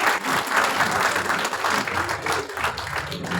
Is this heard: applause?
yes